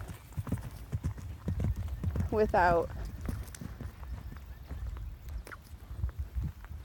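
A horse free lunging with side reins clip-clops in a steady rhythmic trot around its handler, with a brief whinny midway while someone talks nearby.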